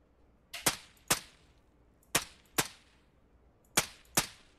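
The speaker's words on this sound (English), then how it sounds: "So you have single fire, which I'll shoot right now to show you the silencer." Suppressed M4/MK18 rifle firing single shots in the game Operation Harsh Doorstop: six sharp, muffled cracks in three close pairs, each followed by a short metallic clack.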